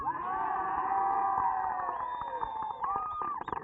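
A crowd of protest marchers in Dallas, 1971, gathered at the end of a march, heard as a steady close murmur of many voices with scattered louder calls near the end.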